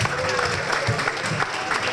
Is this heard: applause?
yes